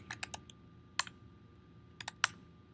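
A cd command typed on a computer keyboard in a terminal: short bursts of crisp, close key clicks, a few quick keystrokes, a pause, then another small cluster, with no talking.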